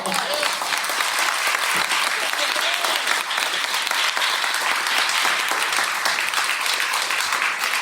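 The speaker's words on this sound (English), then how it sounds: "Let's clap, y'all" An audience claps together at a talk, a loud, steady, dense roll of many hands that holds evenly throughout, with a voice faintly mixed in beneath.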